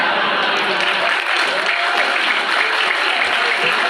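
Dense, continuous applause from a large audience at a Haul Gus Dur commemoration gathering, loud and even throughout, with voices mixed into the crowd noise.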